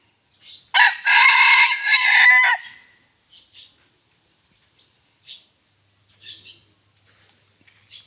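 A crossbred fighting rooster gives one loud, close crow lasting about two seconds, followed by a few faint, scattered rustles and clucks in an otherwise quiet setting.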